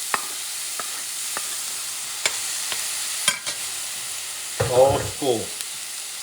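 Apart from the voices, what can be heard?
garlic and grated tomato frying and being stirred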